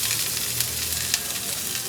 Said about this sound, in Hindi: तड़का इतना तेज है कि ठीक होने लगी।